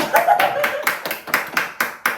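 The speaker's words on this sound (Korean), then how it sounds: "박수 박수" Hands clap in a steady run of about nine sharp claps, close and fairly loud, with faint voices in the background.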